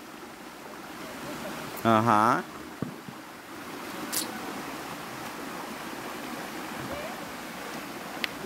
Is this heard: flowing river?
yes